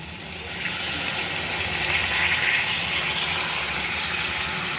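Milk, or kheer, is poured into a hot pan of paneer curry, setting off a loud rushing sizzle and bubbling that swells quickly and then holds steady, close up.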